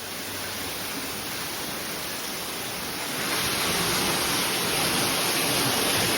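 Water rushes steadily inside a hidden cave beside a waterfall in Thailand, a dense continuous roar that swells slightly louder partway through, with no voices.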